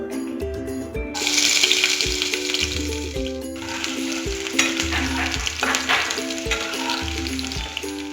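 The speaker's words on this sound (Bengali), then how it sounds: "এবার আমরা এতে পেঁয়াজ কুচি দিয়ে ভাজবো।" Chopped onion hits hot white oil in a pan and breaks into a steady, bright sizzle with occasional stirring, while rhythmic background music plays throughout.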